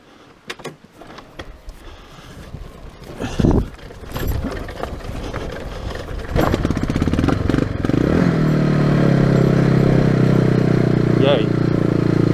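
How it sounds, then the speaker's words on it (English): Hyosung GD250N motorcycle bump-started while rolling downhill on stone: tyre crunch and clunks give way to the engine catching and settling into a loud steady running drone, with a voice briefly in the mix. "I'm going to try and push that down this little hill here."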